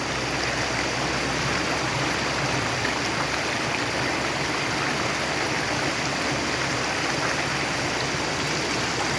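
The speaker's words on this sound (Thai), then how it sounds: "น้ำไหลหลาก" Rushing floodwater pours down a stream in a constant, dense roar, steady and unbroken from start to finish.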